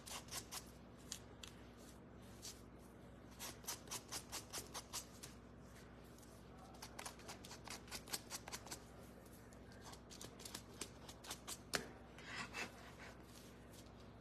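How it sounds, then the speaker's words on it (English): Sanding a small craft leaf by hand gives a faint, close rasping scrape in short repeated strokes, with bursts clustering and pausing irregularly against quiet room noise. "now I'm gonna sand this leaf"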